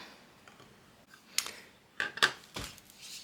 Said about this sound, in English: Now let's cut the vinyl and try that one